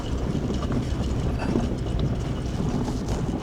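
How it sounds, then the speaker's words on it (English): Wind blowing across an open mountain top, a steady, full rumbling gust buffeting the microphone without a break. "The wind came in."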